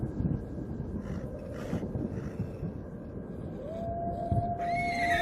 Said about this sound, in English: All at once, the wolves began to howl as though the moonlight had had some peculiar effect on them.